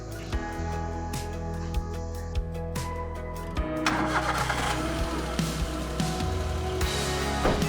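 A Maruti Suzuki Alto Lxi engine cranks and starts after a timing belt replacement, then settles into a steady idle. It sounds close and continuous, with faint voices in a workshop.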